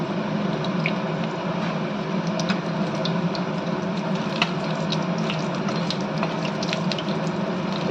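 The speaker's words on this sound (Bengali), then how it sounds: "আর এক পিঠ এরকম লাল লাল করে একটু ভেজে নেব।" Chicken tikka crepe frying in a pan, turned to brown the second side: a steady, close sizzle with scattered fine crackles and pops, heard alone without talk.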